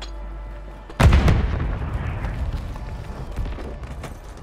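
Grenade blast in Call of Duty Warzone 2 erupts after a low steady hum, a single loud booming explosion that rolls into a long rumbling decay with faint debris and rattling afterward.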